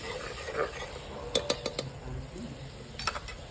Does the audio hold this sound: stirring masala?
yes